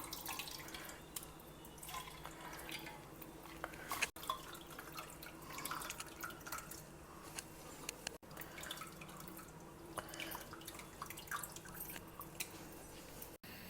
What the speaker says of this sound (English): We will extract the thick juice from it.